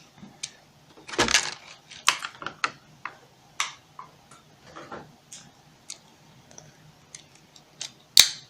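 Plastic and cardboard packaging of a small My Little Pony Equestria Girls mini doll being cut open, heard as a string of sharp scissor snips and crinkly rustles at irregular intervals, close up with no talking.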